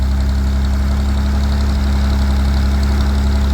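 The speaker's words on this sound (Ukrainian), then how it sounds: "Полили редуктор, перекрили газ, завелась тепер чітко." A GAZ 52 truck engine runs steadily just after starting, a loud, close, even idle with a low rumble and no talk.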